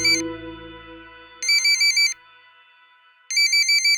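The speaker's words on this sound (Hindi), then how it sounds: "तुम्हारा फोन बज रहा है।" An electronic phone ringtone plays in two bright, warbling bursts separated by a pause, loud and close, with a fading musical tone at the start.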